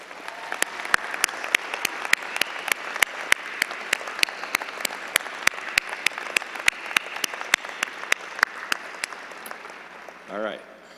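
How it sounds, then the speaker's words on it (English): Crowd applause fills the room at a business school commencement, with a few sharp, distinct claps standing out, ending as a voice begins to speak. "I just want to give them a round of applause."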